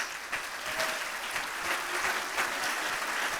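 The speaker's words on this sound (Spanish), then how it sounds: "Dele un fuerte aplauso a Cristo Jesús." A church congregation applauds at a revival service, a continuous wash of clapping at moderate level, steady throughout with no voices over it.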